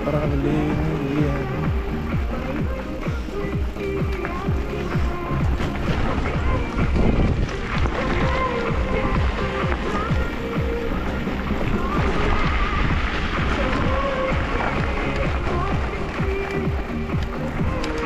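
Wind blows hard along the Crimean coast near Feodosia, a steady roaring rush buffeting the microphone throughout, with low rumbling gusts and faint background activity.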